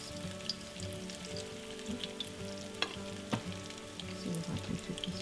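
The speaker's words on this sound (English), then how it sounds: "Yes, listen to that sound. Wow. Into hot oil." Oil crackles and sizzles steadily as schnitzel fries in a pan, with occasional sharper pops and spits, close and continuous.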